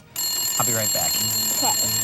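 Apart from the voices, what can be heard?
telephone ringing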